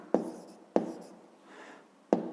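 A pen writes on paper in a maths lesson, three sharp strokes or taps spaced apart with faint scratching between them, close and quiet, no voice.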